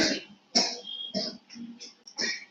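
Several rough throat-clearing coughs in a row, spaced apart with short pauses, close to the microphone.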